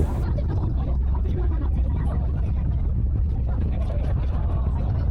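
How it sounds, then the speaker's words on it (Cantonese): A cable car hums and rumbles steadily as it climbs, a low continuous mechanical drone with a person talking over it. "而家纜車已經爬到好高啦，應該準備就要快到啦"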